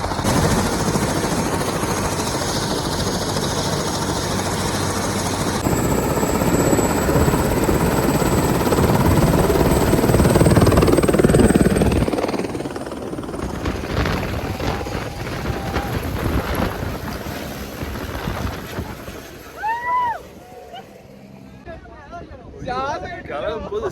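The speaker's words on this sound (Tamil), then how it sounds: "இவ்வளோ பக்கத்தில் ஹெலிகாப்டர் வந்து இறங்குது." A helicopter comes down onto the MBC base camp helipad on a trek from ABC. Its rotor roar is loud and close for about twelve seconds, then eases into a lower mechanical rumble, and voices are heard near the end.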